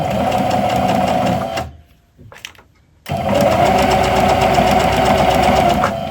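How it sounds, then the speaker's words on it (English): A sewing machine runs loudly up close, stitching fabric for a Halloween pet bandana. The steady whirring stops briefly for a pivot, with a few soft handling clicks, then resumes. "So I'm going to lower that needle, going to lift the foot, pivot the fabric, lower the foot, and then go again."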